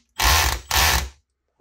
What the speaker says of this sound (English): So you can tell it's in screw mode and it's starting to slip when it makes this noise.